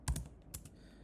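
Short burst of computer keyboard typing, a few quick clustered keystrokes followed by another brief pair, close and fairly quiet with no talk.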